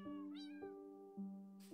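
A Minecraft cat meows clearly in a long, drawn-out call that dips and rises, standing alone without any talk.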